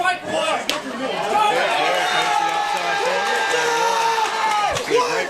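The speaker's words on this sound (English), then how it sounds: "You hear a great crowd already here for the Tigers." A crowd at a high school baseball game between two Tigers teams fills the background with a steady murmur of chatter and occasional shouts, while a commentator talks over it up close.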